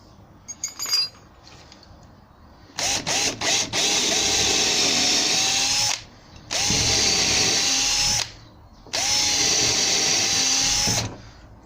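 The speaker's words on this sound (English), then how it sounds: "Drill it through with a little drill, and I'll go through both sides on this" A small power drill whines through a gate in three sustained bursts, drilling a clean hole through both sides, preceded by brief clinking and short starts, loud and close with no talk.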